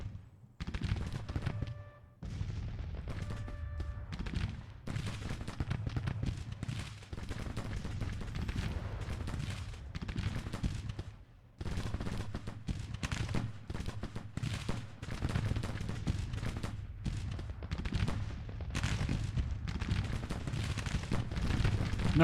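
Civil War battle in the Grand Tactician strategy game: dense volleys of musket fire and booming artillery crackle and roll continuously, loud and layered, with brief lulls between bursts.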